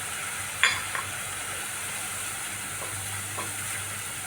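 Spice paste sautéing in a pan with a spoonful of gram flour stirred in, a steady close sizzle with a sharp spatula scrape early and a few softer stirring knocks.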